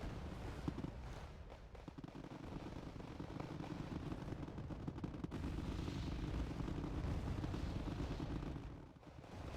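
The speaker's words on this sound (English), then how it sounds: "So it's a bit an artillery exchange and airdrop kind of stuff." Artillery exchanges and air bombardment in the real-time strategy game Wargame Red Dragon, a continuous rumble of distant explosions and gunfire with scattered sharper bursts, holding steady and loud throughout with a slight dip at the end.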